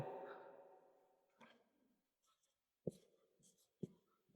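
A Bengali word is handwritten, heard as a few soft, close scratches and taps of a pen on paper after a voice fades out, with quiet gaps between strokes.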